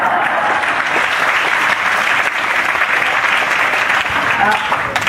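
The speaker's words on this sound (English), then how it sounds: "So give yourselves a round of applause" Audience members at a Sunday evening church service give themselves a round of applause, a steady, loud wash of clapping that carries evenly through the whole stretch.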